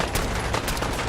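Dense, loud gunfire in Fallout 4 comes as a fast continuous barrage of overlapping shots.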